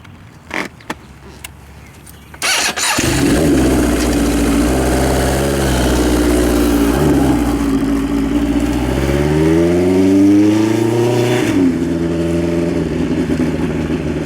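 A street-legal motorcycle, a seven-second machine from Brock's Performance, fires up after a few clicks, then idles loudly and revs up and down in long rising and falling sweeps, close and dominant throughout.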